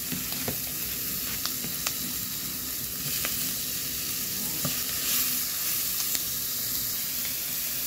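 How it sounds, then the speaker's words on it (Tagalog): Onions and tomatoes sautéing in a pan for creamy spaghetti, a dense continuous sizzle with occasional light taps and scrapes from stirring. "Pag medyo luto na yung ating sibuyas guys, ilalagay na natin yung ating kamatis."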